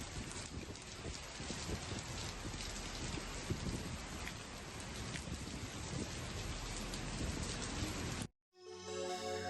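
Heavy rain pours down in Moscow, a dense, steady roar of downpour loud and close for about eight seconds before cutting off abruptly into a brief, different sound.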